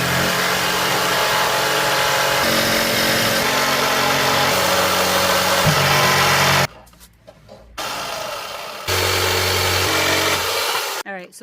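A jigsaw cuts wood for a patio table, its motor buzzing loudly and close, shifting in pitch as it works, then cutting out briefly twice before running again.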